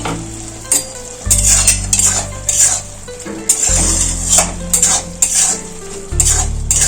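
A pan of ridge gourd and onion for a poppy-seed dish sizzles loudly after its lid comes off. Clinks and scraping stirs come in a quick, uneven rhythm, close and unaccompanied by talk.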